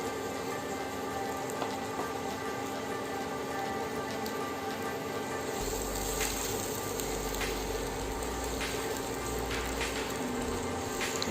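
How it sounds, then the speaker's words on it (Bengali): Finely chopped onions frying in hot oil for crispy beresta, a dense rain-like sizzle and crackle that swells louder partway through and then keeps bubbling steadily, with no talking. "আমি তেলটা গরম করে নিব। আমি কিছু পেঁয়াজ কুচি দিয়ে দিচ্ছি।"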